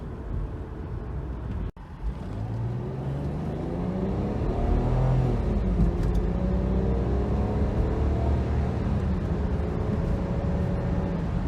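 A 2000 BMW 323Ci's engine hums and rises steadily as it accelerates in sport mode along an open road, a low continuous drone with tire rumble and no talking.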